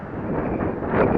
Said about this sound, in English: why does the wind gust up to 25 or 30 every time I try to do this?